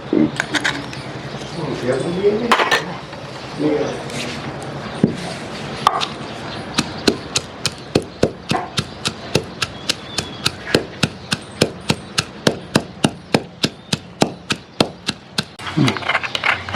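Cumin and mustard seeds pounded with green chillies in a village kitchen: a long run of steady, evenly spaced sharp thuds, close and loud, with brief voice and handling sounds early on.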